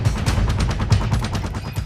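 Explosions and rapid gunfire in the video game Killzone: Shadow Fall, a dense burst of repeated loud shots with heavy booming impacts, close and continuous without speech.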